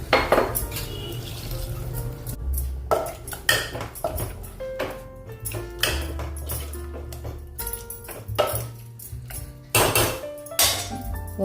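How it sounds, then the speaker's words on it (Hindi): Metal cooking pot in a village kitchen clattering and scraping as it is rinsed with water, with repeated sharp clanks and knocks of utensils, close and fairly loud. "अभी इसमें पानी डालेंगे, इसको धो देंगे।"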